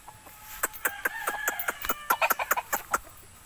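A seven-year-old fighting cock clucks in a rapid run of short, sharp calls, close and clear with no talking.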